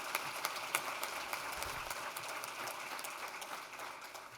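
Audience applause at a conference opening session, faint and distant, a steady crackling patter of many hands that holds for several seconds before easing slightly.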